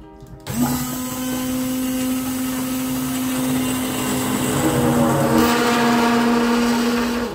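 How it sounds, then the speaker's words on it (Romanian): A hand blender purees cooled tomato cream soup, starting abruptly after a brief quiet moment and then whirring loudly and steadily at close range, its pitch shifting slightly near the end as it churns through the liquid. "acum urmează să o dau cu blenderul, să folosesc mixerul ușor"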